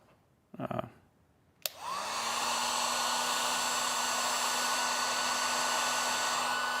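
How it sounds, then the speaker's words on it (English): A heat gun used for heat-shrinking tubing on 4/0 copper cable in a campervan conversion starts with a click and then blows a steady, loud whirring rush of hot air close by, after brief rustling. "you can let the gun heat up for a second and then come over here so it gets kind of red hot"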